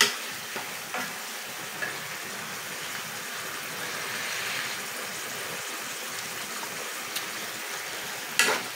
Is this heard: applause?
no